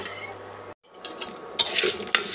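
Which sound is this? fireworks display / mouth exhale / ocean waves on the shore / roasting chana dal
roasting chana dal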